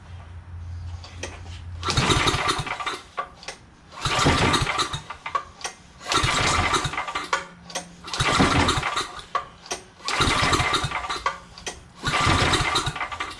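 A small salvaged generator engine, its coil wire just replaced, is cranked about six times in quick succession, each loud, rough burst of turning over dying away without the engine catching.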